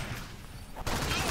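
Rapid video-game gunfire in Alien Swarm Reactive Drop, a dense burst of shots that grows louder and fuller toward the end, with players talking over it.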